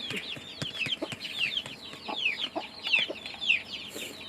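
Chickens at a rural village home in Yang Talat, Kalasin, Thailand cluck and chirp repeatedly at close range, many birds overlapping in a busy, steady chatter with a few louder calls.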